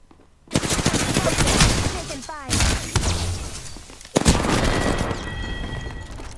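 Loud bursts of automatic gunfire and impacts fill an online shooter match, two long sustained volleys broken by a short gap, with players talking under the shooting.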